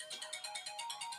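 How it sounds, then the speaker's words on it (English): Electronic phone ringtone from an incoming call, a bright repeating warble pulsing about five times a second, steady and moderately loud with no voices over it. "Now I've got a phone call."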